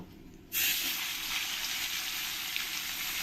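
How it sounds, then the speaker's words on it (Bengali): Silver carp pieces laid into hot oil, a near-silent pan that erupts into loud, steady, close hissing and sizzling frying that holds unbroken to the end. "এবার আমি পরের মাছগুলো এই একই রকমভাবে আমি"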